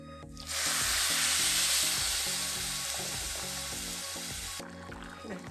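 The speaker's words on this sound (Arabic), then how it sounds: "هحط بقى الرز. هحط معلقة ملح" Rice and a spoonful of salt added to a hot pot of chicken broth with Maggi, bursting into a loud, steady sizzle that fades slightly before cutting off, with a rhythmic clatter beneath.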